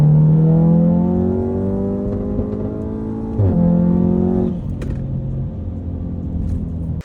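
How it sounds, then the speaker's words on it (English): VW MK7 Golf R with modified boost setup and a failed diverter valve under hard acceleration, loud engine roar with turbo flutter, pitch shifting through gear changes around midway, no talk. "And now when I accelerate hard, you can hear it flutter."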